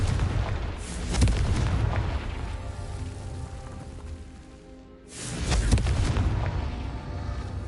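Confringo fire spell explosions in the Hogwarts Legacy video game, two loud booming blasts about four seconds apart, each dying away into a rumbling tail.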